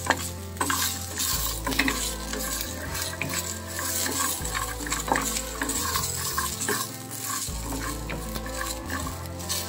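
Eggplant bharta with spices stirred and cooked in a pan, with steady sizzling and repeated scraping strokes of a spoon against the pan, close and continuous, with no talking.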